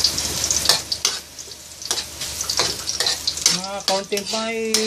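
Ginger frying in a pan for ginataang kalabasa, a steady close sizzle with stirring scrapes, then a voice speaks over it near the end.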